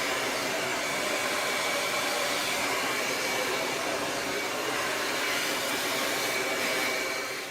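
A hair dryer blows continuously at close range while hair is blow-dried with a ceramic round brush, a loud, steady rushing roar that eases slightly at the very end.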